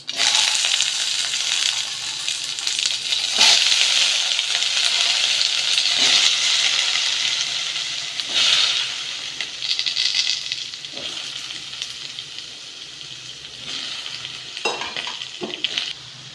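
Chayote cubes sizzle and crackle loudly in hot oil tempering, with spoon scrapes and clinks as they are stirred; the frying gradually quiets over time.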